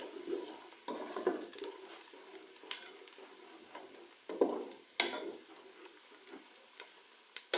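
A spoon is stirred through degi korma in a pot with whole green cardamom and bay leaf as it sizzles, giving repeated scraping strokes and clinks over a steady frying hiss, close and moderately loud.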